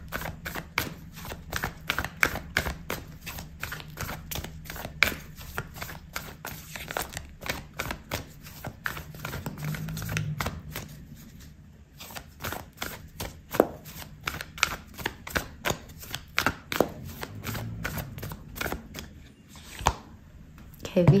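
Oracle cards being shuffled and pulled for a reading: a steady run of crisp, close riffling snaps and slaps across the whole stretch, with a few brief pauses, and someone speaking softly underneath.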